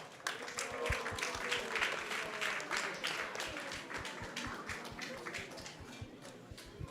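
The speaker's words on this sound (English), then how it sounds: "let's give them a big round of applause as well" Audience applause at a Krishna Katha discourse gathering, a moderate crowd clapping steadily for several seconds, with distinct rhythmic claps close by and a faint background murmur.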